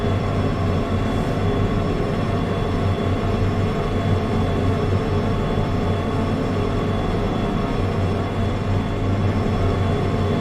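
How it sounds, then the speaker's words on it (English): A long freight train rumbles steadily in the Derail Valley railway simulator, a loud, continuous low roar of wagons and rolling wheels with a faint high whine, no voices. "this is certainly a long train that we are hauling today"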